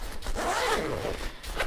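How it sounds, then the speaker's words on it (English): Zipper on the front pocket of an Osprey Ozone 36 Convertible rolling suitcase being pulled open in one long, close, continuous rasp lasting nearly two seconds, with no talking. "Zips open nearly all the way down"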